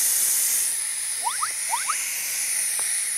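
Steam hisses steadily from a freshly cooked pot of rice as a rice cooker lid is opened, a constant airy rush with a few faint squeaky chirps over it.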